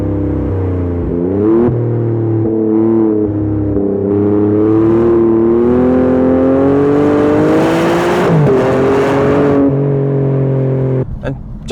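An Alfa Romeo Stelvio QV's turbocharged engine pulls hard through the gears, its note climbing in rising harmonic sweeps with brief dips at each shift, loud and close throughout before cutting off abruptly at the end.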